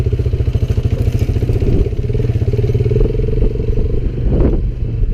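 A Lifan motorcycle engine chugs steadily at close range while riding on sand, with a rhythmic pulsing and some clattering, rising briefly near the end.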